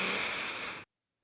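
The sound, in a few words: inhaling breath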